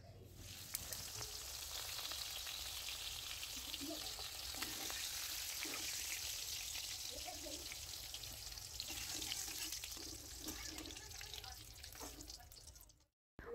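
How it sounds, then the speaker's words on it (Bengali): Capsicum pieces frying with salt in a pan, a continuous soft sizzle with occasional stirring clatter, steady and fairly quiet throughout before cutting off at the end. "আবারও নেড়েচেড়ে ক্যাপসিকামগুলোকে ভালো করে ভেজে নেব।"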